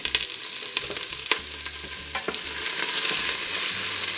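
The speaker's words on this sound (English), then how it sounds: "So you heat up some oil like this, and then you go like this with your onions." Onions sizzle in hot oil in a pan, a steady close crackle that builds louder toward the end, broken by a few sharp clinks and scrapes of a utensil early on. No one speaks.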